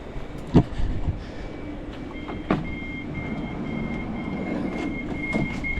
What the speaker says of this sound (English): But train's coming, class 380.